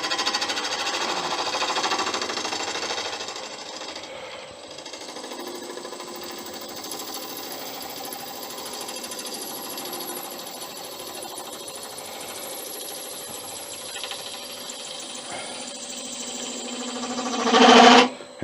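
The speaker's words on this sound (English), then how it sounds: "HDPE actually cuts lovely with turning tools." An HDPE shop mallet spins on a lathe as turning tools cut it, giving a faint, continuous buzzing hum with steady cutting texture, rising to a brief louder burst near the end.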